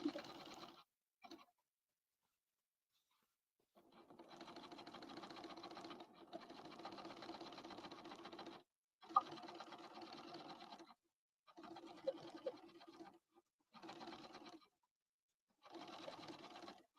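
Sewing machine topstitching a jeans inseam, a steady whirring stitch run in several bursts of a second or two with silent pauses between, quiet and close, no talk.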